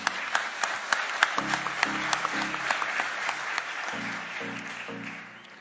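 Audience applause in a hall at a CAF election meeting, steady crowd clapping with sharp individual claps standing out, while a repeated low musical tone or chime plays alongside and the sound tapers off at the end.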